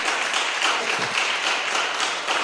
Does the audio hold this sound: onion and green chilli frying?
no